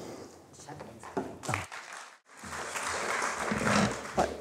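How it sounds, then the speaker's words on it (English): Audience applause in a hall after a talk on Shakespeare and politics, a steady wash of clapping rising after a brief pause and holding loud, with a voice briefly heard early on. "The applause says it all."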